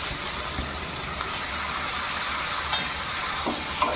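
Sliced onions with turmeric fry in a pan while being stirred, a steady close sizzle with soft scraping and a few small clinks from the utensil, no voices.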